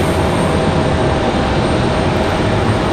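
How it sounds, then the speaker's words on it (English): An Embraer jet's engines roaring at Raleigh-Durham International Airport on a stormy day, a loud, steady broadband rumble with a faint whine on top, close and continuous, with no voices. "Got a little noisy Embraer down here."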